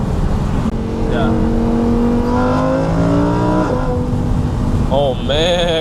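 A supercar on country backroads revs hard and downshifts, engine tones rising and falling in loud sweeping bursts up close, with excited voices talking over it.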